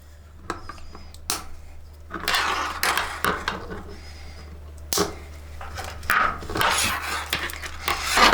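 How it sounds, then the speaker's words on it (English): Side cutters snipping cable ties while a Mustard Bikes tail tidy is fitted to a 2022 Yamaha R7, a series of sharp clicks and snaps spread across several seconds over a low steady hum, with no talking. "we can take our side cutters and just trim these cable ties away"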